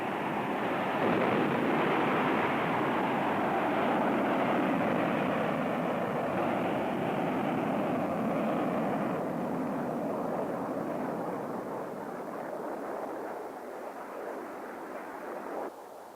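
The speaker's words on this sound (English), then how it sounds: "Here is a manned airplane shot out of an atomic blast-proof base" A rocket-boosted manned airplane launches from an atomic blast-proof base with a loud, continuous broadband roar that holds for many seconds and eases slightly near the end, with no voices.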